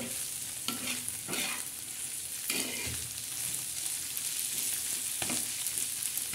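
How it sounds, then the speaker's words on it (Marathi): Ground dried bombil (Bombay duck) chutney fries in a pan, giving a steady sizzle close by. Occasional scraping strokes mark it being stirred and roasted until crisp. "आता किती छान तळल्या गेलेली ही चटणी"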